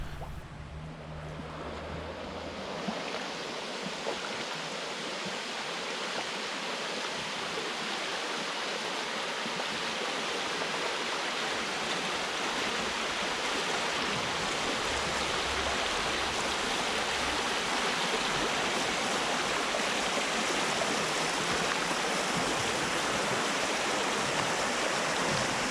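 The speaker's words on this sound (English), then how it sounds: "Such a gently flowing amber stream to wade in" A gently flowing amber river runs in a steady, close, broad rushing wash that keeps going unchanged for the whole stretch, with no voices and no breaks.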